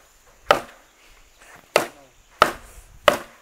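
A machete chops into guadua bamboo in a bamboo grove, landing four loud, sharp woody strikes at an uneven pace with quiet gaps between them.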